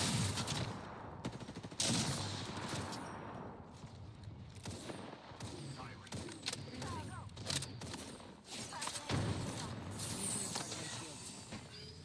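Rapid gunfire in a battle-royale style video game, dense bursts of shots blending into a loud continuous barrage with hiss-like noise throughout, while players talk over it.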